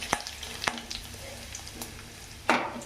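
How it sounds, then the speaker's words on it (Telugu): Cumin and mustard seeds, with chana dal and chopped pieces, sizzle in hot oil in a pan, a steady crackle broken by a few sharp pops and a louder burst near the end. "జీలకర్ర, ఆవాలు అవి బాగా ఏగనిద్దాం"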